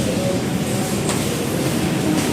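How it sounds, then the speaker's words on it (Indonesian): Inside Pasar Senen train station near the prayer room, a steady broadband rumble of station ambience holds throughout, with faint distant clanks and no clear voices. "Stasiun Pasar Senen, musola."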